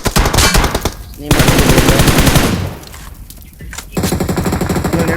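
Rapid automatic gunfire in the mobile battle royale game BGMI, loud and close, coming in dense bursts with a brief lull between, while a player briefly speaks over the shooting.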